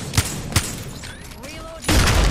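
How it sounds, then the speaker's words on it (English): Grenade explosion in a shooter video game: a sudden, loud, broadband blast that rumbles on to the end, preceded by two short sharp thuds and some faint whistling game sounds. "Grenade deployed"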